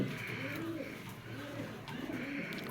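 A racing pigeon coos softly in three repeated low, rolling phrases, evenly spaced, against a faint background hum.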